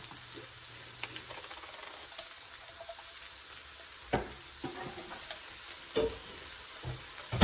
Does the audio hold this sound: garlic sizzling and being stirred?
yes